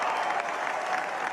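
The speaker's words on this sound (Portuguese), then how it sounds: "o público todo aplaude" A large crowd applauds at Donald Trump's victory speech, a dense, continuous wash of clapping that stays steady and loud throughout the short moment.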